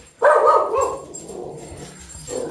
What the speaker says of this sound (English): Now the dogs think someone's here because you said hello.